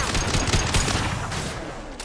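Sustained gunfire from a heavy weapon in the video game Mass Effect 2: a dense, continuous burst of rapid shots and rumbling blasts for about two seconds, loud and without pause.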